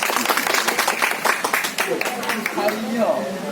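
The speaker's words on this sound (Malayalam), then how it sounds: "അപ്പൊ ഒന്ന് കൈയടിച്ച് പ്രോത്സാഹിക്കുക കൈയടിക്കട്ടെ ആഞ്ഞടിക്കട്ടെ" Applause at a shop inauguration: a crowd clapping in a steady, brisk patter of many hands nearby, while a voice talks over it.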